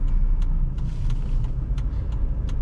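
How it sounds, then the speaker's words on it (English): A 2017 Jeep Compass Latitude with a naturally aspirated 2.4-litre four-cylinder engine accelerates, heard from inside the cabin as a steady low engine drone and road rumble with a few faint clicks. "for being an NA 4-cylinder, I expected it to be absolutely gutless. It's actually got a good amount of torque"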